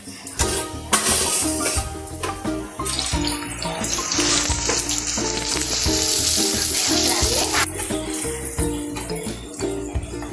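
Mustard seeds and cumin sizzle steadily in hot oil while a masala brinjal curry is being started, a continuous close crackle with a brighter, busier stretch in the middle and no talking.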